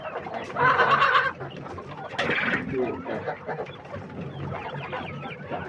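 Chickens cluck close by in short bursts, with a brief squawk in the middle and soft background murmur.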